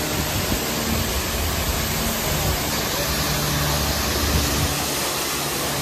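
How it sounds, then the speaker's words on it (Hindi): A powerful waterfall rushes beside the Amarnath Yatra trail between Chandanwadi and Sheshnag, a steady broadband roar of crashing water that stays loud and constant throughout, with no voices over it. "ये नीचे से जोरदार झरना बह रहा है"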